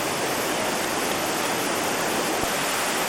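A powerful New Hampshire waterfall roars steadily and close by, a dense unbroken wash of falling water with no voices heard.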